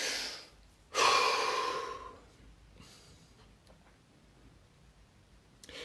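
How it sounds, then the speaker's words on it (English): A deep breath: one strong, close inhalation rushes in after a second of quiet and fades over about a second, followed by soft, faint breathing and near silence. "Take a deep breath."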